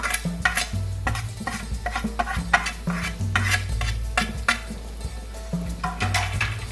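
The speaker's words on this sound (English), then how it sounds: "Give this a quick mix." Tawa fish curry with pineapple salsa is stirred on the pan, a spoon scraping in a regular rhythm over a low steady hum and faint sizzle, nearby with nobody talking.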